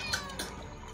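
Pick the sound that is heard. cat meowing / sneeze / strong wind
cat meowing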